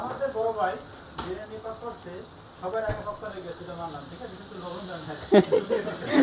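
Spices such as Kashmiri chili powder cooking in a pan at home give off a steady, soft sizzle and frying hiss, with people talking loudly over it throughout.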